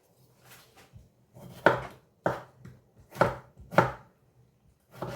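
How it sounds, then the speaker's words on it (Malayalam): A knife chops through a tomato on a cutting board in a home kitchen, making a series of sharp, close thunks with irregular pauses between the cuts, five or six strokes in all. "ഒരു തക്കാളി കട്ട് ചെയ്തിടണം"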